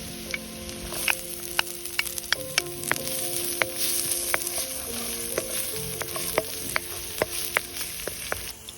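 Spices sizzle and fry in oil in a pan over an open wood fire, a steady crackling hiss punctuated by sharp pops and stirring clinks, close and continuous with no talking.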